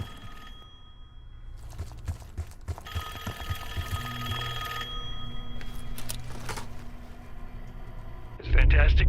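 A telephone rings in Call of Duty Black Ops 6 Zombies, a repeated bell-like ring over a layered game soundscape with steady rumbling background, and a voice speaks briefly at times.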